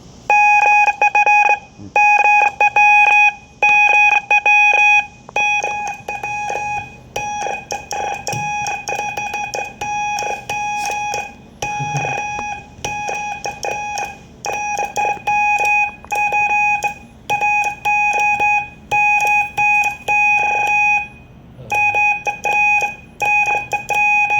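Steady stream of Morse code tones, a single clear pitch keyed on and off in rapid dots and dashes, loud and continuous with faint background hum.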